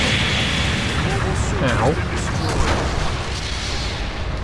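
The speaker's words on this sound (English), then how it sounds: "Explosions! Beams! More explosions!" Explosions and beam fire in the video game Gundam Battle Operation 2 make a dense, loud rumble of booms and bursts with sweeping tones, continuous under a speaking voice.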